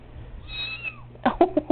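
A mother cat with four-week-old kittens gives a single rising-falling meow. Several short, sharp chirps or mews follow it close to the listener, with no talk during the sound.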